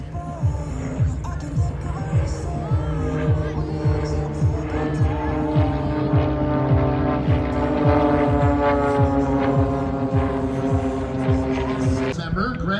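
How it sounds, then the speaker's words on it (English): A propeller airplane flies at the 2023 Lethbridge Airshow, its steady, throbbing engine drone holding loud and close for several seconds before cutting away near the end. "The smoke trail from Todd's airplane"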